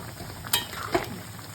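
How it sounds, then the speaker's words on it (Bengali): Mushrooms frying with onion in a pan with a little oil, a steady sizzle broken by two brief scraping stirs, close and moderately loud. "আর এদিকে এইটা মাশরুমটা ফ্রাই করছি।"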